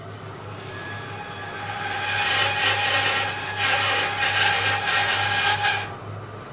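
A small wooden wedge is cut with a handsaw in a woodturning workshop, giving a run of close, loud, rasping back-and-forth strokes over a steady low hum that stop near the end.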